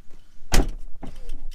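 A Tesla Model S car door opens with a sharp mechanical clunk followed by a softer secondary release sound and a brief whirring motion, close and loud with no talking.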